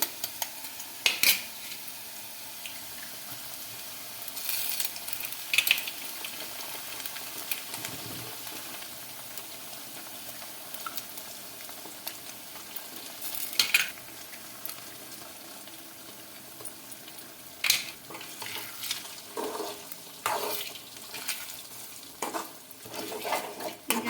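Four eggs are stirred into golden fried onions in a hot pan for egg bhurji, a steady close sizzle and frying hiss under occasional scraping spatula strokes and light clinks against the pan.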